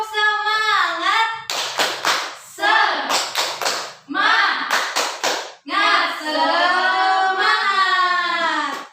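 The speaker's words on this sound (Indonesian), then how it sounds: "Coba kita tepuk semangat." A primary school class claps out a rhythmic spirit clap, with bursts of sharp claps alternating with loud group chanting from the children, close and energetic.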